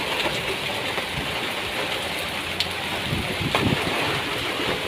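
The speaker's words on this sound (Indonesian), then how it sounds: "Ini hujan angin guys, hari ini hujan angin." Heavy rain and strong gusting wind blow together in a storm with hail, giving a loud, continuous roaring hiss with a few sharp knocks and rattles near the end and no voices.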